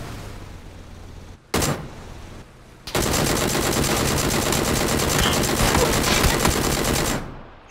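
Loud automatic gunfire in a shooting video game. A brief burst comes first, then a long sustained stream of rapid shots runs for over four seconds before it cuts off.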